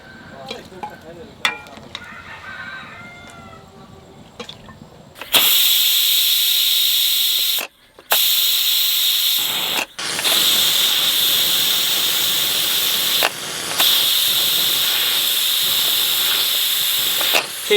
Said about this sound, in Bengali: 10টা সিটি দিয়েছি, হাই ফ্লেমে 2টো আর বাকিগুলো স্লো মিডিয়াম ফ্লেমে।